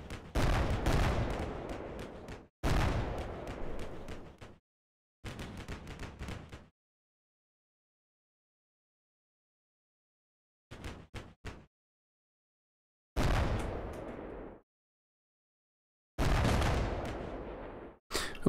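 Bursts of gunfire from the wargame Combat Mission Black Sea, played in multiplayer, come in several loud, separate volleys of a second or two each, with total silence between them and no talking.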